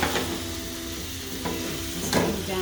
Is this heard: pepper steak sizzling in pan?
yes